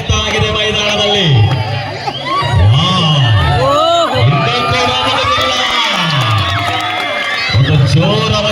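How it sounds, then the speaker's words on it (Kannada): Spectators at a kabaddi semi-final roar, whoop and shout in loud, sustained waves of crowd noise. Individual voices rise and fall above the dense hubbub. "ಜೋರಾದ ಚಪ್ಪಾಳೆ ಬರಬೇಕು ಪ್ರೇಕ್ಷಕರು."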